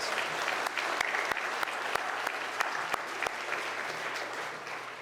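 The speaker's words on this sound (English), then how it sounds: "let's give him a round of applause" Steady audience applause at the Florida Inventors Hall of Fame awards show, a broad even wash of many hands clapping, moderately loud, with a few sharp individual claps standing out.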